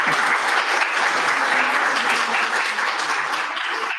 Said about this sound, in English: Let's give him a big round of applause again.